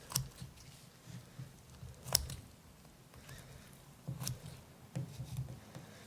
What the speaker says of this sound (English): you take your scissors again and you're going to cut through the left side